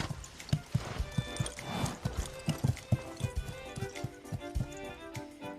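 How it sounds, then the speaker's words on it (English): Horse hooves clip-clop in a steady walking rhythm in the game Love and Deepspace, with music playing underneath and a faint whinny-like tone now and then. "Let's send the horse away first."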